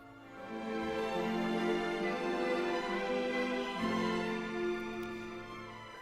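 Startup sound of Sibelius music notation software loading on a computer: a sustained, swelling tonal chord with layered harmonics that shifts pitch midway and slowly fades, heard clearly with no talking.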